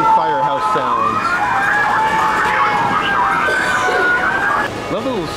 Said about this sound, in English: and firehouse sounds.